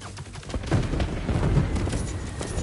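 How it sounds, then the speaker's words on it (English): Fireworks crackle and pop in the Spider-Man 2 video game, a dense stream of bangs and fizzing bursts under a steady rumble, fairly loud and continuous. "The fireworks! They're lit!"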